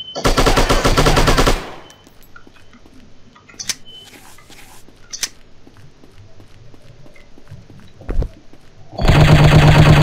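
Loud rapid automatic gunfire from an enemy's weapon in the shooting game Striker, a sustained burst at the start and another at the end with quieter clicks and single shots between.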